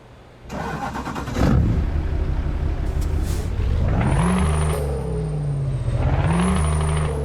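A Scania V8 truck engine sound mod in Euro Truck Simulator 2: a sharp air brake hiss, then the engine starting and rumbling, rising twice in pitch as it revs through gears, loud and steady with no talking.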